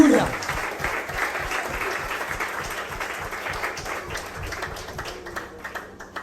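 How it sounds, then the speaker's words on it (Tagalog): Worshippers at a church anniversary service break into applause praising Jesus, a full, steady clapping from many people with a faint rhythmic thump underneath and voices occasionally rising above, slowly easing in loudness. "Isang pinagpalang palakpakan sa Diyos."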